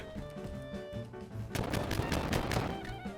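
Gunfire from Call of Duty Warzone Mobile breaks out midway, a rapid burst of loud automatic shots in a busy battle mix, with no talk over it.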